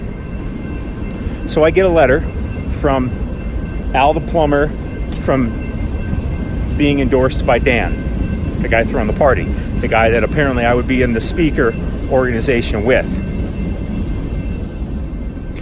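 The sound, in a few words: passing train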